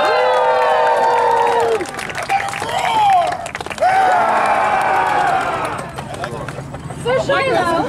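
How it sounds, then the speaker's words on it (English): A crowd at a full-contact Renaissance faire joust in Seymour, Indiana cheers and shouts for Dame Olivia, a loud, sustained roar of many voices with whoops and hollers rising and falling over several seconds. "if we can have a cheer for Dame Olivia"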